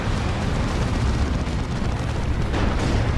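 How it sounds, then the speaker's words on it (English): Loud, rumbling explosions from a rocket run in Dawn of War 2 roll continuously, a heavy low-end barrage of overlapping blasts filling the whole moment without pause. "That's a rocket run there."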